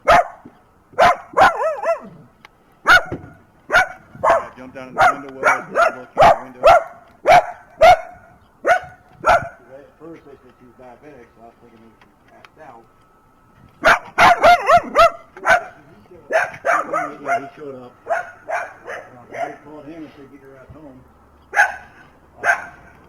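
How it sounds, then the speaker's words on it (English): A dog barks repeatedly in sharp, loud bursts through much of the scene, recorded on a police body camera at a residence, while people talk over and between the barks. "He won't stop barking. Bark, bark, bark."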